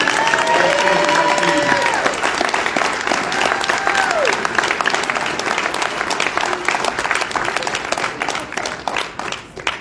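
Big, steady applause with whoops and cheers at a sports association's 50th annual banquet, honouring the 2022 inductees, loud and continuous, with shouted voices rising over the clapping early on.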